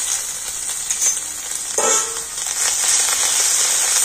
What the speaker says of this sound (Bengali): তো আদাটাকে তেলের মধ্যে ভেজে নেবো